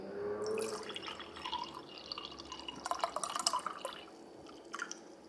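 Coconut water being poured into a glass, a burst of liquid splashing and bubbling followed by scattered drips and clinks, close and fairly clear with no talk.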